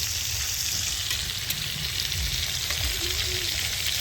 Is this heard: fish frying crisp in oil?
yes